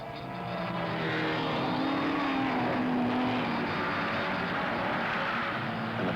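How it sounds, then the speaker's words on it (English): Ford racing cars from the 1965–1966 seasons run on a rain-soaked track during a downpour, a steady loud engine roar with a rising and falling whine as cars pass, continuous and without voices. "And the cars are all over the track."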